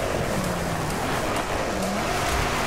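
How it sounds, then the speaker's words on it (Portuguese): Mercedes-Benz C63 Coupé Black Series sliding on a wet track in the DriveClub racing game, a steady engine drone with faint tyre hiss running unbroken from start to finish. "O carro tá derrapando pra caramba mesmo, velho."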